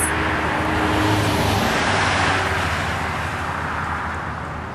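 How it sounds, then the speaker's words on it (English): A rural transit bus approaching on a roadside and pulling over, a loud, steady engine rumble and road noise that swells close by, then eases slightly as it slows. "Here comes the bus."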